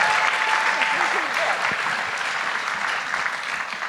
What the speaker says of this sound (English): round of applause for all the doctors